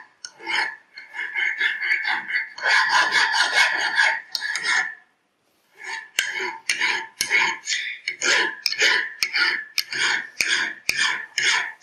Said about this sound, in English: Cleaning off any burrs that were left.